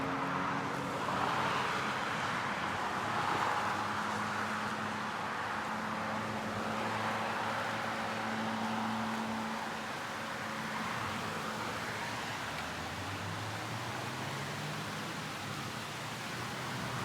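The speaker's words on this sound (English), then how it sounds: "Noisy traffic." Road traffic passes on the Kennesaw State University campus as a continuous broadband wash of tire and engine noise, with a few faint engine tones rising and falling, fairly distant, no talk.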